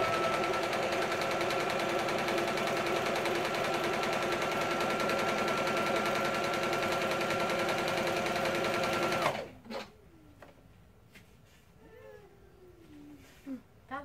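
A sewing machine stitches RV curtains in a steady, fast, continuous whir for about nine seconds, then stops, leaving a quiet room with a few faint cat meows.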